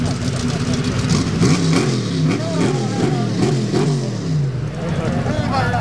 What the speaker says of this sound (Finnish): Tämä Offroad Formula ajaa Unlimited Luotossa.